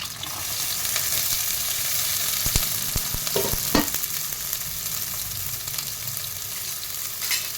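Small shallots and green chillies frying in a little oil in a pan: a close, continuous sizzle with a few sharp stirring clicks and scrapes partway through.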